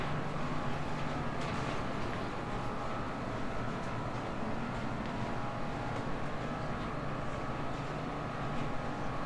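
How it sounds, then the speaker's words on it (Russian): Passing metro trains make a low, continuous rumble heard from inside an underground Cold War museum. The steady, distant roar fills the whole stretch with no talk. "вы будете слышать проезжающие поезда метро"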